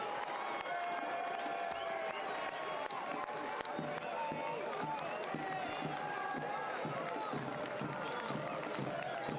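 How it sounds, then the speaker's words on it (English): A stadium crowd keeps up a continuous cheering roar with scattered clapping after a USL League One soccer match. A commentator speaks over the crowd. "Listen to the echoes of the crowd."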